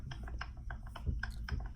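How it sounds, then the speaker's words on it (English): Computer keyboard typing in quick bursts of clicky keystrokes, fairly close and steady over a low background hum, with no speech. "Why are you typing in my ear?"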